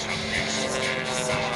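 A stunt plane at an airshow roars past at a steady, fairly loud level in a brief, continuous engine drone with a broad noisy wash and no clear rise or fall.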